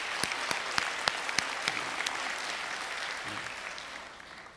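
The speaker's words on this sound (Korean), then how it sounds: "여러분 한번 박수로 한번 격려해 줬으면 좋겠습니다" A church congregation applauds in a steady wash of clapping with a few sharper claps standing out, fading slightly toward the end.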